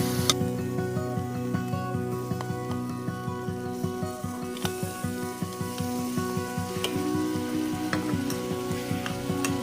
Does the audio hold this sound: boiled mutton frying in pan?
yes